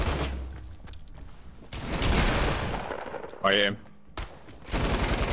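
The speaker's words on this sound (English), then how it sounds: "I'll spray him with LMG." Light machine gun fire in a first-person shooter video game, bursts of rapid automatic shots spraying over a couple of seconds, mixed with game effects and a player talking.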